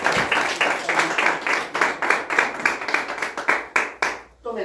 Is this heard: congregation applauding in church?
yes